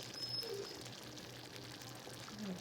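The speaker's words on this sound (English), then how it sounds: "Pour, I don't know, a quarter cup or so into the sauce" Heavy cream pours from a container into a tomato-heavy spicy chicken pasta sauce, a soft, faint, steady trickle lasting a couple of seconds against a quiet kitchen background.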